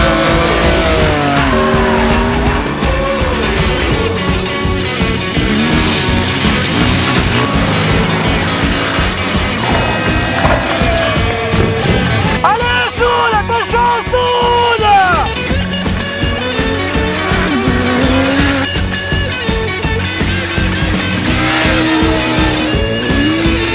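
Racing motorcycles such as a Yamaha R6, KTM Super Duke and Yamaha 450 YZF scream at full throttle on a Moto Tour special stage, loud and continuous with rapid revving, gear changes and passing engine sweeps.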